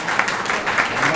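Audience applause for an elderly honoree at an award event for senior wrestlers, a steady dense clapping that fills the short moment at close range.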